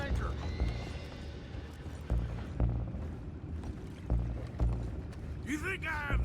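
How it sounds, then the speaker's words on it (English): Horses in the video game Red Dead Redemption 2 give a sharp whinny near the end, over a busy bed of hoof clatter, water and ambient game noise with thumping impacts throughout. "go find out about those horses down below"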